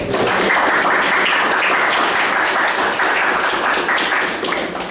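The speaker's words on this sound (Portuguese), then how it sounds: "Uma salva de palmas" Classroom audience in a pedagogy lecture claps in a steady, dense round of applause, loud and continuous throughout, easing slightly at the end.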